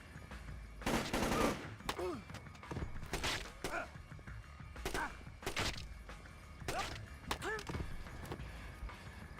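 Gunshots in the Splinter Cell Chaos Theory video game, a handful of sharp separated bursts spread over several seconds, fairly faint, with brief in-game voices between them.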